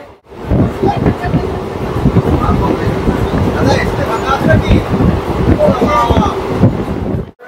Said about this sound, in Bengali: আমাদের ট্রেন কিন্তু এখন বেশ ভালো ধরেই যাচ্ছে